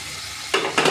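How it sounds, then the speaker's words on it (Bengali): Warm water poured into a hot pan of spiced pointed gourd with peanuts sets off a sudden loud sizzle over a quieter frying hiss. The burst flares twice in quick succession. "এবার আমি জল দিয়ে দেব, উষ্ণ গরম জল।"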